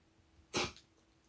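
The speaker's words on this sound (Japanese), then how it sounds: "くしゃみや" A single short sneeze bursts out in a quiet indoor room, brief and moderately loud against faint background hiss.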